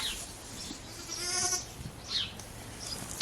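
A sheep bleats once, a wavering nasal cry up close, followed by shorter breathy calls and light rustling.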